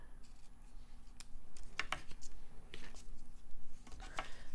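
Scissors snip through ribbon being trimmed for a handmade textured card, giving several short crisp cuts and rustles at close range over a low steady background hum.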